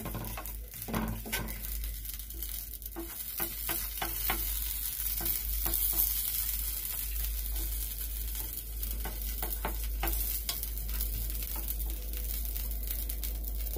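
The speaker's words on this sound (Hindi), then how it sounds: "अब घी लगा के इसे सेक लेना है।" Puran poli roasting in ghee on a griddle, a soft continuous sizzle with scattered crackles and spatula scrapes, close and fairly quiet over a steady low hum, no talk.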